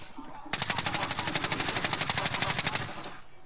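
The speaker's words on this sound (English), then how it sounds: "I don't know where he's shooting me from" Rapid automatic gunfire in Call of Duty Warzone, a loud rhythmic burst of evenly spaced shots lasting a couple of seconds before cutting off.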